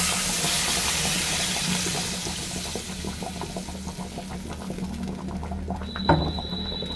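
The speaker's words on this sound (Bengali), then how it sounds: "দিয়ে দিচ্ছি জল।" Water running into a cooking pot over a steady gushing flow that slowly settles, with a brief clink near the end, close up and without talk.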